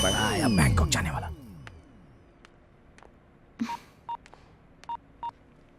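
Automated telephone balance-check call with keypad tones for pressing 1: a loud burst of tones at the start, then several short, evenly spaced beeps in near-quiet, with no talking.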